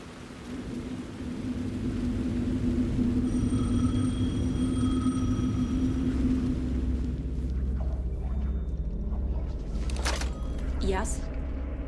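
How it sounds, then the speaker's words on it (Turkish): A telephone rings in the video game Alan Wake 2, a steady electronic trill repeating over a loud rumbling, rain-like ambience, with a voice briefly speaking before the ring and sharper noises near the end. "telefon çalıyor"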